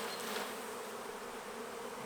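Dense, steady buzzing of many honey bees on a hive frame, continuous and close, filling the whole moment with no voices.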